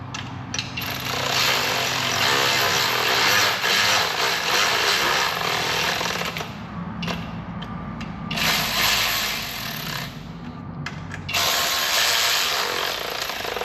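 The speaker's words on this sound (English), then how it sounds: "Go ahead and run these bolts up." Power tool running bolts up on the manifold of a 2013-2014 Ford F-150 3.5 EcoBoost engine during a rebuild, with loud sustained buzzing bursts broken by short pauses.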